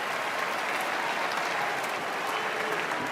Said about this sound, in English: Yeah, that's worthy of applause